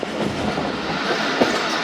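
A train pulls into Bahawalpur railway station at night, a steady close rumble of rolling wheels and rattling carriages that holds for the whole stretch with one brief knock near the end.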